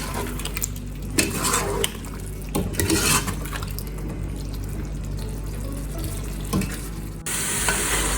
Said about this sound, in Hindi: बस मसाले को अब हम थोड़ा सा भून लेंगे 1-2 मिनट के लिए